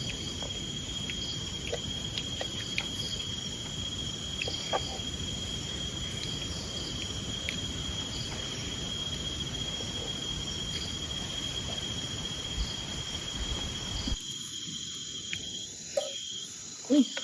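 Crickets and other insects chirp steadily in a deep forest at night beside a campsite, a dense, continuous buzzing chorus with faint rustles; it cuts away to near silence near the end.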